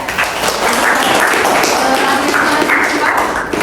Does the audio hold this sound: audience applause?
yes